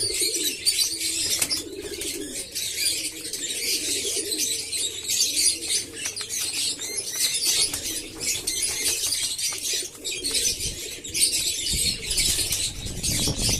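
Domestic pigeons coo steadily over a continuous twittering of many birds close by, with occasional wing flutters and no voices.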